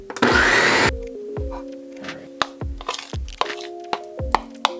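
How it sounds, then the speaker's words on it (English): A blender blending Turkish lentil soup roars briefly for under a second, then stops, followed by a series of sharp knocks and clatters. "We're gonna blend the soup."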